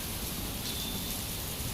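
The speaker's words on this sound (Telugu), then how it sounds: "గోరలో గోర వస్తుంది మొత్తం వర్షం" Heavy rain pours down in Uppal, Hyderabad, a steady, dense hiss that stays even throughout at a moderate distance, with no voices.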